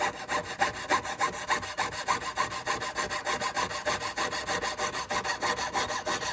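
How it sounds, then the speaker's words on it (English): A hand saw cuts through a diamond bangle in quick, rhythmic back-and-forth strokes. The rasping is steady and fairly close, and no one speaks over it. "So I'm just going to run my saw right through it."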